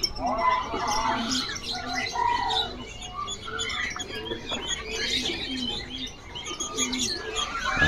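Many birds, including kopi-kopi birds at a bird market, chirp and tweet in a dense, steady chorus, with soft cooing mixed in throughout.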